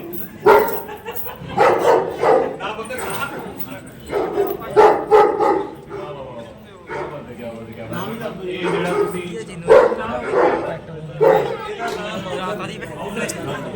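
Dogs bark repeatedly at a farm in Punjab, loud close bursts of barking and yips spread through the clip, mixed with people talking.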